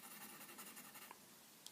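A pencil lightly shading on paper during a doodling art lesson, faint soft scratchy strokes rubbing back and forth in a quiet room.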